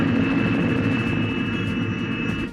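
Steady, loud aircraft engine drone inside a bomber flying toward Russia in the film Dr. Strangelove, a continuous low rumble with a sustained high whine above it, running unbroken with no talk.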